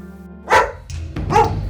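Two or three loud, close barks from a large German Shepherd, sharp separate bursts over a steady low hum indoors, with no talking.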